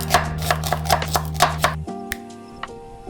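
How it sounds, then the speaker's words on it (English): Knife chopping onions and carrots on a board, about a dozen quick, evenly spaced cuts over a steady background hum that then drops away, leaving a couple of faint clicks. "we'll halve the onions and dice the carrots"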